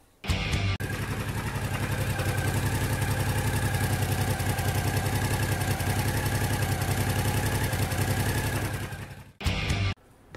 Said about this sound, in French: lorsque le moteur est en fonctionnement, un cliquettement très caractéristique.